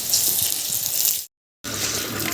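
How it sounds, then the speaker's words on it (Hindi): A strong stream of water gushes from a tap in a house under construction, a loud steady rushing hiss broken once by a short silent gap. "आप पानी चेक करें, देखें माशाल्लाह जी, बहुत ज़बरदस्त पानी"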